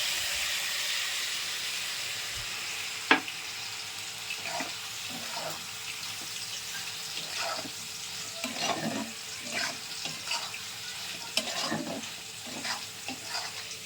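Mustard and poppy seed paste mixed with water going into ridge gourd and potato frying in a pan, a soft steady sizzle with irregular scraping stir strokes and light clinks, no voices.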